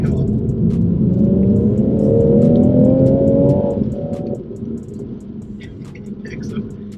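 A BMW M240i accelerates on a wet road, its engine note climbing steadily under a heavy rumble before easing off into a lower cruising drone, heard from inside the car.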